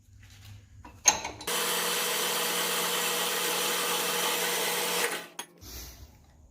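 Quarter-inch-thick, two-inch-wide steel flat stock is cut in two with a power saw, giving a steady, loud grinding whine of about three and a half seconds between brief clatters at the start and the finish.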